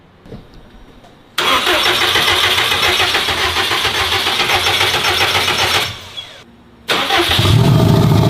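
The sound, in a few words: Subaru engine starting and firing up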